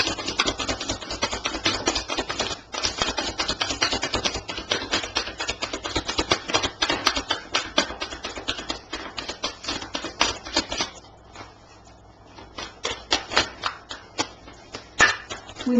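A deck of tarot cards is shuffled by hand, giving rapid, close, crisp riffling and flicking bursts that run steadily, with a brief pause before the shuffling resumes.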